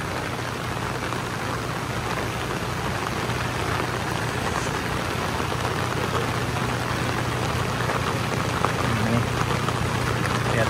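Heavy, persistent rain pours down on a slippery uphill road, a dense, steady hiss of drops that stays loud and unbroken throughout.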